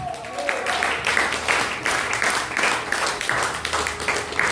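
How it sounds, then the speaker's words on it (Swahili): A church congregation claps loudly for Jesus during a sermon, a dense wash of many hands in rhythmic surging bursts close by. "Pigia Yesu makofi."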